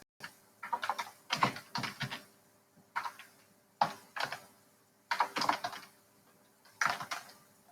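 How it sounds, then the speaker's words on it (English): Bursts of typing on a computer keyboard, near and clear, with rapid clattering key presses in several short runs separated by brief pauses, with no voices. "we're going to type in something like"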